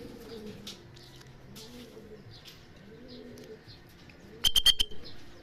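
Racing pigeons coo softly at a loft during derby training, low repeated murmuring calls throughout, broken near the end by a sharp burst of louder chirps and a brief flutter of wings.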